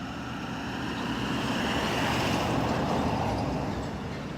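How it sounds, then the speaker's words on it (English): A car driving past near an aircraft boneyard, a broad rising and fading road rumble with tire noise, moderately close, no speech. "Here comes a car."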